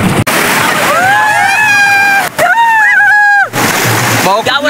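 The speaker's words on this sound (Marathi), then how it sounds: "लाटा पण खूप येत आहेत" Sea waves wash and splash onto Tarkarli beach in Malvan on the Konkan coast, a continuous roar heard beneath loud, close voices speaking and calling out.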